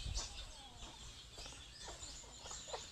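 Chickens on a farm cluck and chatter busily in overlapping calls, close and fairly loud, with a steady outdoor background running underneath.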